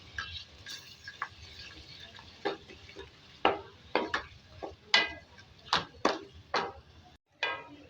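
A spoon stirs ginger garlic paste and beef in a pan, giving irregular scraping clicks and knocks at close range over a faint sizzle, with no talking.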